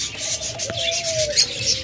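Pet lovebirds, cockatiels and budgerigars call nearby: a drawn-out whistled note with short chirps scattered over a soft background hum, no speech.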